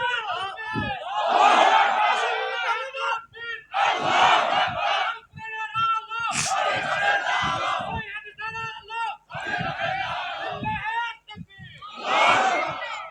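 A large crowd at an Islamic religious gathering (mahfil) chants the takbir, Allahu Akbar, in loud, repeated group shouts that rise and fall in a steady call-and-response rhythm, with short pauses between them.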